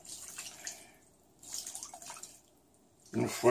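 Water for a paella is poured in short bursts, with soft splashing and trickling in separate spurts between quiet pauses, and a voice speaks briefly near the end.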